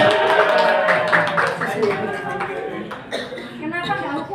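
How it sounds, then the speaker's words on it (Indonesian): An audience claps for a teacher, scattered hand claps rising over voices and light laughter, fading toward the end. "Beri tepuk tangan untuk Pak Baldi."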